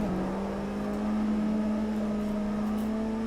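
A drift car engine in the Assetto Corsa sim racing game, a steady droning engine note holding at high revs with a slight rise, continuous and fairly loud with no talk.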